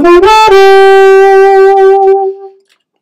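An alto saxophone plays one sustained, rich, reedy note after a brief attack, loud and close, holding for about two seconds before stopping, with a short ring-out and then silence.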